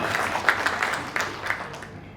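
Audience clapping at a Diwali get-together, moderate applause with scattered sharper claps over a couple of seconds.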